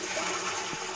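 A toilet flushes in the video game Internet Cafe Simulator 2, giving one continuous rush of water that stays steady and moderately loud for about a second, with no voices over it.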